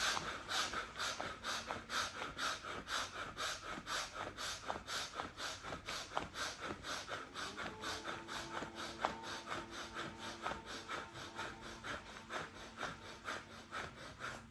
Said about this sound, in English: Breathe again, rub sides and breathe in and out.